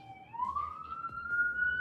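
A siren wails upward in pitch and holds a high tone, fairly loud and close, with no talking over it.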